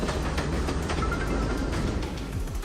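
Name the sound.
slow passenger train running on rails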